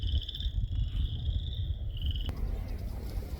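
Frogs calling in a steady chorus, a high trilling line running over a dense, rumbling low background, with one sharp click partway through.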